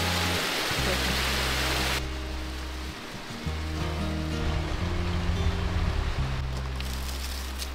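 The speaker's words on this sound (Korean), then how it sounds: "오늘은 좀 푸르진 않지만 물소리 들으면 좀 좋아요" Steady rushing of flowing water outdoors, a broad continuous wash of noise that runs the whole time, with a low hum underneath and no clear speech.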